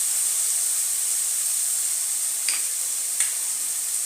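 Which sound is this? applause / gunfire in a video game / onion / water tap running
onion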